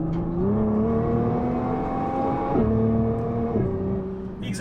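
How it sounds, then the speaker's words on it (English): A 2021 Nissan GT-R's engine and exhaust note climbs steadily under hard acceleration, its pitch rising and then stepping down at the gear shifts, loud and close throughout with no talking. "The exhaust sounds good,"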